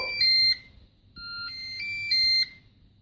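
A Cookeo multicooker gives a short electronic jingle of bright, clear beeping tones as it is switched on, alone in a quiet kitchen.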